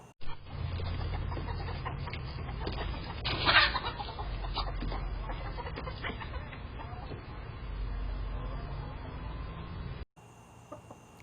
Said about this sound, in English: there is a dog running around the chicken coop and the chickens are going crazy